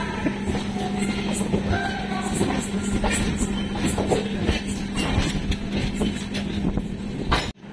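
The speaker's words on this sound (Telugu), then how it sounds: "ప్లాట్ఫామ్ నంబర్ 1 మీదకైతే ఎంటర్ అవుతున్నాం ప్రెసెంట్" The Rayalaseema SF Express rolls onto platform one at a busy station, with a steady low rumble, rhythmic wheel clatter and faint squeals, loud and close.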